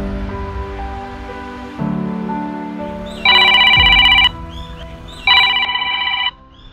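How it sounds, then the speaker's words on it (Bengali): A mobile phone rings with an incoming call outdoors in a wooded spot, first a low droning tone and then two loud, bright bursts of electronic ringtone, each lasting about a second, close and alone with no talking. "আবার ফোন দিচ্ছে"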